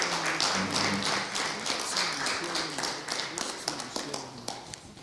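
A workshop audience gives a speaker a round of applause, a steady wash of clapping that is fairly quiet and distant and slowly thins toward the end.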